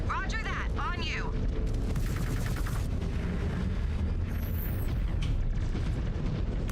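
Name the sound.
incoming missiles and weapons fire in Mechwarrior 5 Clans video game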